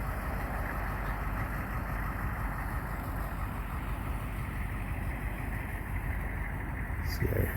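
Diesel engines of military Humvees idle nearby in a fire-damaged neighborhood, a steady, loud low rumble holding unchanged throughout while someone speaks over it.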